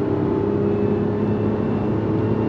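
Engine of a 2024 Mazda CX-90 midsize SUV under way, a steady loud drone with constant low hum and road roar, no distinct rev changes or pauses across the short stretch, no voices.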